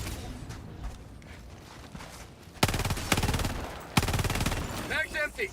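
Gunfire from the player's gun in the video game Helldivers II starts in quiet, faintly clattering gameplay, then breaks into two loud rapid-fire automatic bursts with metallic mechanical clicks at the end.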